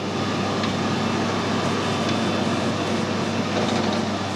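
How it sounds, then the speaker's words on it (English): A workshop lathe runs slowly with a steady, even mechanical hum and drone that does not change throughout. It is close and continuous, with faint ticks over it and no speech. "I'll run the lathe nice and slow so you can see what happens"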